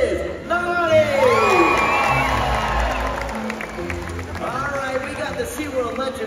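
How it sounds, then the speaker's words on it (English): An audience at a SeaWorld orca show cheers and whoops loudly at the orca's birthday, a broad crowd roar with high shouts that swells and then eases, with an announcer's voice over it. "I want to hear a big cheer for the birthday girl."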